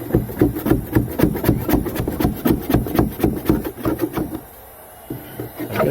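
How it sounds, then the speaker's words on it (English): Steady, rhythmic scraping strokes on the plastic keel of a Pelican Apex 100 kayak during repair, loud and close, a quick repeated rasping that pauses briefly near the end before resuming. "I guess I am going to bore you with the scraping."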